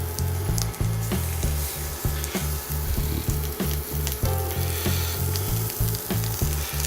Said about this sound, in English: Now I have my griddle has been on for a few minutes, and we nicely put them in here.